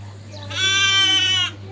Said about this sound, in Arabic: دي معزة، خروف صغير.